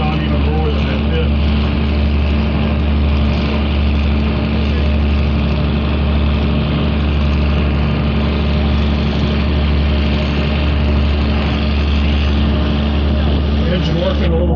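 A Virginia and Truckee Railway museum train's engine works hard up an almost 4% grade, the steepest on the line, giving a loud, steady low rumble and chugging drone that runs unbroken from start to finish.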